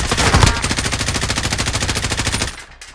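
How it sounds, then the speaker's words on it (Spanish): Sustained automatic weapon fire in Call of Duty: Modern Warfare, a loud, close, rapid burst of evenly spaced shots rattling for about two and a half seconds before cutting off abruptly. "alguien más estaba disparando"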